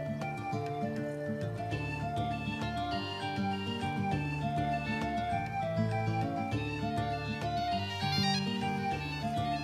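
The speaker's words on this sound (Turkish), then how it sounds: "Bu Ayşegül'ün cep telefonunun sesi" A bright electronic mobile phone ringtone plays a repeating melodic pattern continuously, steady and moderately loud, with no voices.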